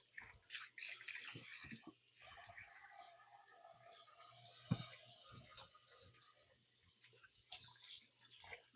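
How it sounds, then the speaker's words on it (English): Hands washed under a running tap in a home kitchen, with soft, uneven splashing and rubbing that come and go, fairly faint. "I'm gonna give my hands a good wash now."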